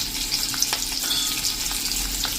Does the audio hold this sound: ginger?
yes